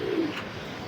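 A young pigeon ringed by a racing club gives a single soft, low coo, close by and brief, against faint room noise.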